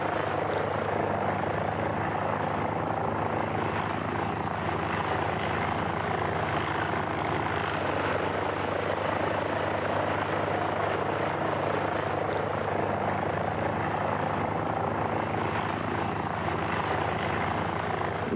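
A replica early open-cockpit biplane with two wings, a tail and no fuselage flies at full power, its engine and propeller making a loud, steady drone for the whole stretch without a break.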